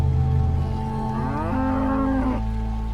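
A cow in a corral lets out a single long, loud moo, rising and then falling away, close by with no talk.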